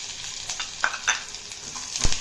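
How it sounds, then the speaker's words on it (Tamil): Onion and garlic sauté in hot oil for pepper kulambu, a bright steady sizzle near the mic punctuated by several short spoon clicks and one heavier knock. "நல்லா வதக்கி விட்டுக்கலாம்"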